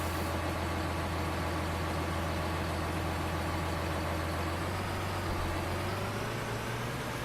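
A tractor engine in the Farming Simulator 19 video game runs with a steady low drone, its pitch creeping upward toward the end, continuous and even with no speech.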